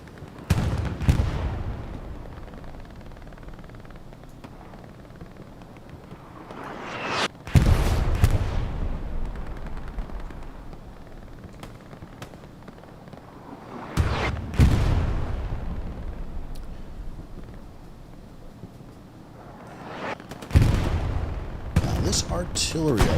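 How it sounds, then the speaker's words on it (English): Artillery fire in Hell Let Loose on the Sainte-Marie-du-Mont map: four heavy booms land at roughly even intervals, each with a long rolling rumble that fades before the next, while people talk faintly underneath. "Artillery, I want to say"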